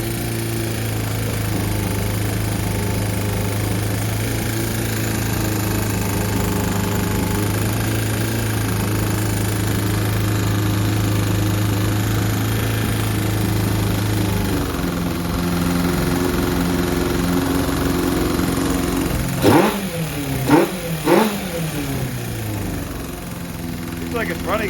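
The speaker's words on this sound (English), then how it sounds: "So if I adjust the idle, if I rev it up, it'll hang up." A 1978 Honda CB550K motorcycle engine idles steadily and close, then revs in a few sharp bursts near the end that fall back, while a person talks over it.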